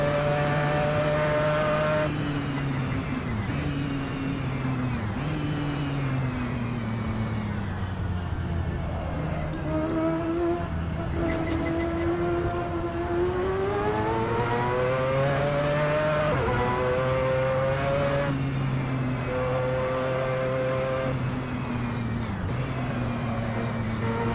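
A Mazda 787B race car in the Assetto Corsa racing game screams through laps, its rotary engine a loud, buzzing wail that climbs through gears, drops on shifts and lifts, then rises again in steady cycles.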